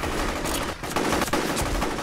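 Sustained gunfire in the video game F.E.A.R. Extraction Point, a dense, loud automatic burst that keeps going for about two seconds with only brief dips, no talking over it.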